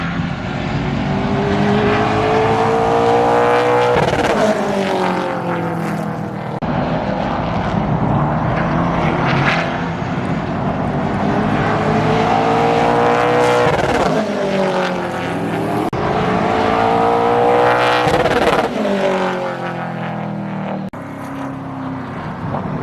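Race car engine heard from inside the cockpit during a practice session, loud and continuous, with repeated rising and falling revs through gear changes and brief drops in throttle, no talking.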